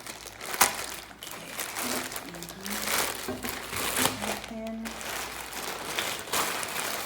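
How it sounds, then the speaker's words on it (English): An iPhone 12 package being unwrapped, with close crinkling and rustling of plastic wrap in uneven bursts while a person speaks throughout. "The sound of a new package unwrapped."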